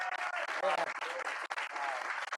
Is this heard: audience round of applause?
yes